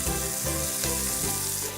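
Sofrito sizzles and fries steadily in a frying pan, a loud continuous crackle with faint stirring, no voices.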